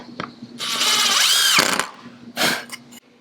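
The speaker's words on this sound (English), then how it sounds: "we can go ahead and pre-drill and lock it in with a second screw" A power drill pre-drilling wood for an Adirondack table whines at high speed for about a second, drops off, then gives a shorter burst, with small clicks between.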